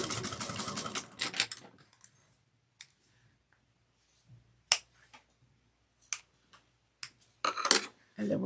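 A sewing machine backstitches through folded fabric in a quick, dense mechanical burst near the start, followed by scattered faint clicks and taps against a quiet background.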